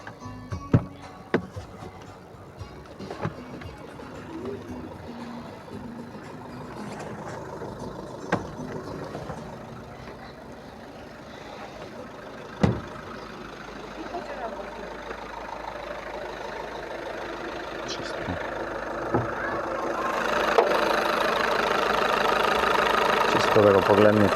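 A 2010 Volkswagen Golf BlueMotion engine idles with a steady mid-pitched hum and a few sharp clicks, growing somewhat louder toward the end, while someone talks intermittently nearby.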